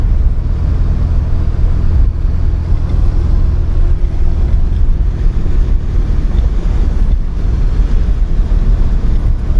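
A 1979 Porsche 924 is driving on the road in fourth gear at about 2200 RPM and 40 mph, with a steady low engine drone masked by heavy wind and road rumble throughout.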